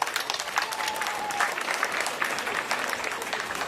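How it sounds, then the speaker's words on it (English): Steady, moderately distant applause from the audience at a youth indaba gathering continues evenly for a few seconds without voices. "Can we give him a big round of applause?"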